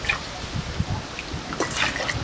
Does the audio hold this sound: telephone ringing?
no